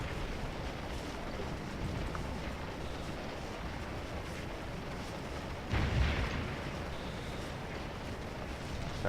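Cannon artillery fire in the Scourge of War video game, a steady dense rumble of distant battle with one heavier boom standing out midway, no voices.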